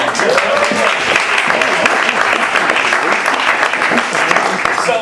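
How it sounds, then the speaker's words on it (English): Audience applause at a live arts center show fills the room, a dense, steady wash of many hands clapping at close range throughout, with some voices mixed in. "Round of applause."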